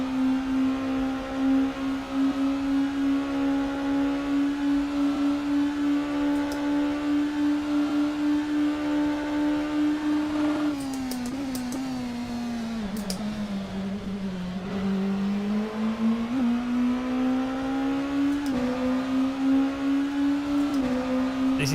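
Hypercar engine in a racing simulator video game, droning at a steady high pitch for a long stretch, then dipping and climbing again as the revs shift, loud and constant with no talking.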